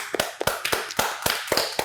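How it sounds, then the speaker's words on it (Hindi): Studio audience on a morning talk show claps for Javed Miandad's induction into the PCB Hall of Fame, a handful of sharp, evenly spaced claps, close and clear with no talk. "तो तालियां होनी चाहिए पहले जी"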